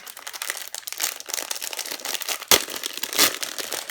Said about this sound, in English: I get pretty loud when I'm opening up my packages